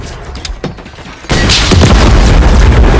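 An enemy helicopter blows up in Call of Duty Modern Warfare 3. A sudden loud boom cuts in partway through and carries into a sustained roaring rumble of the blast.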